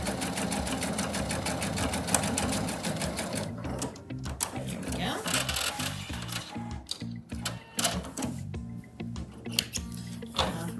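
A quilting sewing machine runs in fast steady bursts with brief stops, close and moderately loud, while a person talks quietly in between.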